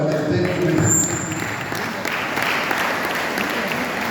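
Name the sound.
audience applause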